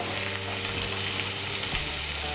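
Chopped ginger and green chillies fry in hot oil with a loud, close, continuous hiss and a low hum beneath, steady from start to finish.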